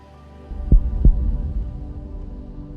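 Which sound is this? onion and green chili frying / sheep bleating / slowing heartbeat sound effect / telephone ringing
slowing heartbeat sound effect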